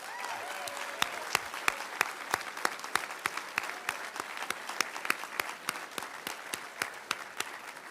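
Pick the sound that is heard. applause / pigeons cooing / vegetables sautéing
applause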